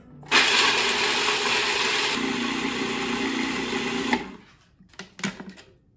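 A food processor grinds salted cashews for cashew snowball cookies down to fine crumbs, a loud steady whirring drone that runs for about four seconds, then stops, followed by a few brief clatters.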